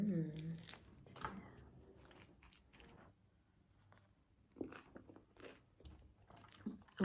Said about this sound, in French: Vous entendez ce croustillant du pain là que j'ai mis au four?